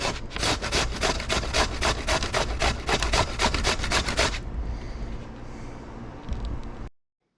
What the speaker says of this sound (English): Just doing a little grating.